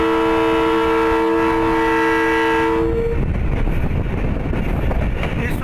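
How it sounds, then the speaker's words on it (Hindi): A PDK shuttle train running on the track between Malakwal and PDK at around 40–45 km/h, starting with a loud sustained horn blast that cuts off into a dense, steady rumble and clatter of wheels, close and loud. "मजे का ट्रैक साउंड है इस वक्त।"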